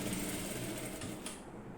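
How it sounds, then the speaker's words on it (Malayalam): A sewing machine runs steadily, stitching the hem of an umbrella-cut skirt in a continuous whirring hum that fills the whole stretch, close and fairly loud, with no talking. "ഇതുപോലെ നല്ല റൗണ്ടായിട്ട് തന്നെ സ്റ്റിച്ച് ചെയ്ത് എടുക്കണം."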